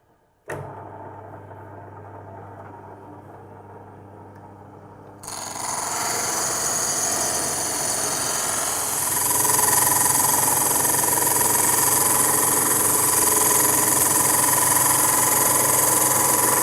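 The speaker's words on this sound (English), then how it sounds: "We're going to be using water with the hole saw to cut through the stone." A water-cooled hole saw drills into stone, starting with a click and a low motor hum that jumps to a loud, steady grinding whine and grows slightly heavier as the cut deepens, with no talking.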